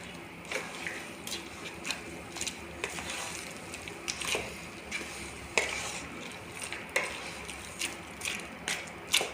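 Mutton curry being stirred in a handi after garam masala is added, with sharp spoon-on-pot scrapes and clinks repeating irregularly over a steady low sizzle, close and moderately loud, no talking.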